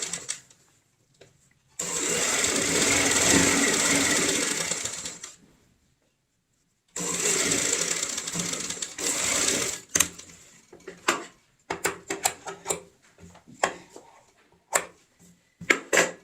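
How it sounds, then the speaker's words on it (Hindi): Sewing machine stitching along a zip on a cushion cover, running in two long continuous buzzing bursts, then pausing and giving short clicks and brief runs as the fabric is adjusted, close by. "बिल्कुल जिप के साथ साथ लगाएंगे सिलाई को ऐसे।"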